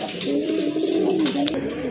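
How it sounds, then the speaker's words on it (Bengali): A pair of large racer pigeons coo close by, a low, warbling rolling call that carries on through the short moment, with faint chirps above it. "অনেক বড় সাইজের এক জোড়া রেসার কবুতর"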